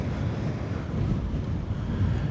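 Steady wind at a seaside fishing market buffets the microphone with a low, continuous rumble, with no voices.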